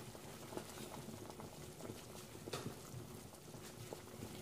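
Beef tripe congee simmering in a pot, a soft continuous bubbling and gentle patter, quiet and steady throughout with no voices.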